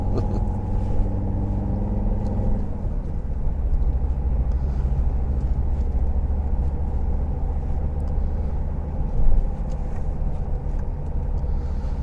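A car drives along a British country road with blind bends, its engine and tyre rumble a steady low drone heard from inside the cabin, with one faint bump partway through.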